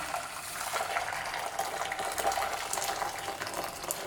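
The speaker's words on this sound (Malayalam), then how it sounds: "ഇനി ഇതിലേക്ക് നമുക്ക് നല്ല തിളച്ച വെള്ളം ഒഴിച്ചു കൊടുക്കാം" Boiling water pours in a steady, close splashing stream onto rice ada in a pot while palada pradhaman is being made, with no voices.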